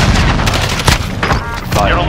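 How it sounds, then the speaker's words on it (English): Dense, loud gunfire and booms from Call of Duty Modern Warfare, with shots in rapid succession through most of the moment and players talking over the noise. "Stop shooting"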